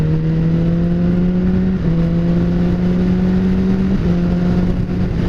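A motorcycle fitted with a Healtech quickshifter runs at low speed with a loud, close engine drone that steadily rises in pitch, broken by two quick upshifts where the tone drops and climbs again.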